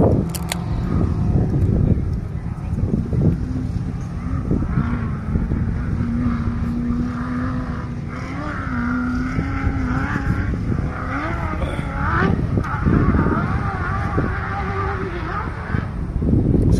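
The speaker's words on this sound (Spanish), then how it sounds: "con el rugido de los motores" Race car engines roar and whine around a track during qualifying, with rising and falling pitch and occasional tire noise, blended with a commentator talking over the loudspeaker throughout.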